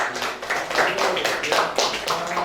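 A short burst of applause from a classroom of students, scattered hand claps rising and falling through the moment, close and fairly loud.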